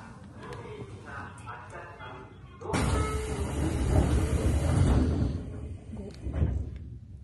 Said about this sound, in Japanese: 普通列車は久留米駅発車いたします。